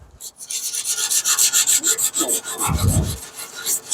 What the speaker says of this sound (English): especially now that I'm sanding it